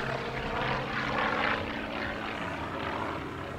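Loud, continuous rotor and turbine roar from Huey and Cobra military helicopters at the Barksdale Defenders of Liberty Airshow, a broad steady wash of engine noise that swells slightly midway, with no voices.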